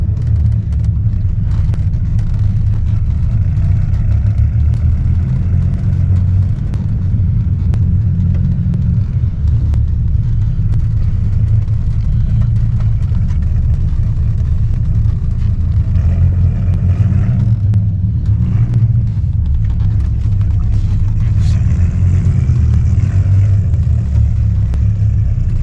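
A 1997 Dodge Viper GTS engine rumbles from inside the car on a test drive after a tune-up, running steadily loud with surges of acceleration and road noise and no talk.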